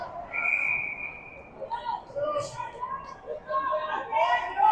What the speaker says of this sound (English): Another whistle for the Cats here to catch their breath.